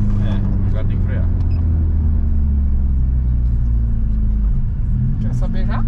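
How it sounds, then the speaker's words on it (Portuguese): A car engine is revved in a steady, loud low rumble over about six seconds, building a little after an intake was fitted, with a voice talking over it. "Vou dar uma aceleradinha pra ele puxar um pouco mais de ar gelado no intake."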